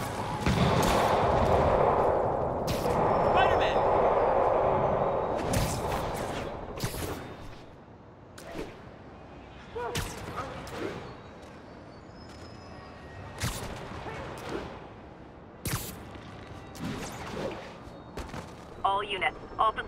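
Scattered gunfire from the video game Marvel's Spider-Man Remastered, with sharp isolated shots and short bursts spread across the stretch, following an opening of mid-level rumble while characters talk in between.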